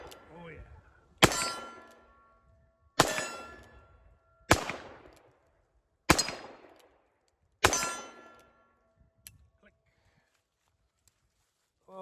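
Five revolver shots are fired at steel targets, each a sharp crack followed by a ringing metallic clang that decays over about a second. They are evenly spaced and close, with a faint voice near the start.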